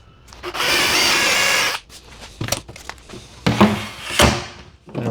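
A power drill bores a hole in a wooden cabinet, a loud steady whine for nearly two seconds that then stops, followed by a series of knocks and clunks as the wood is handled.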